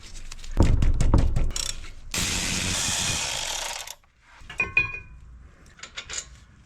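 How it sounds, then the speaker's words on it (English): Big ratchet cracking loose the brake caliper bracket bolts on a Mazda CX-5, a burst of sharp metallic clicks followed by a rough grinding clatter, then scattered lighter clinks. "Got my big ratchet."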